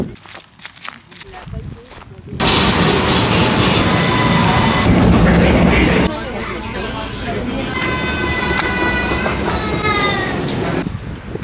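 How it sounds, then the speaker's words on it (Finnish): A Vienna metro train roars past close by, a loud rushing rumble with squealing wheel tones in its latter half, after a few seconds of quieter station ambience with footsteps; people talk nearby. "Otin metron tänne keskustaan."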